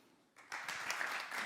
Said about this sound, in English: A big round of applause for Pavel, please.